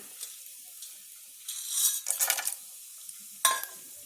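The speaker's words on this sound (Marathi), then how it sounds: "आता त्याच्यामध्ये घी टाकलंय. आता हे सर्व खडा मसाला जो घेतलाय ना तो आता सर्व टाकायचा." Whole spices tipped into hot ghee for chicken biryani give off bursts of crackling sizzle in short clusters, mixed with light metallic clinks of a utensil against the pan, fairly close and with no talk.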